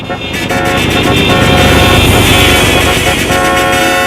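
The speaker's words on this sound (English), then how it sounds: "everyone was honking at us" Car horns honking at a slow-moving car on a road trip, a loud sustained blare with layered horn tones and a brief gap before the honking resumes, over traffic noise.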